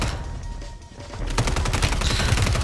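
Rapid gunfire in a shooting video game, a sparse shot or two followed by a dense, loud burst of repeated blasts close by.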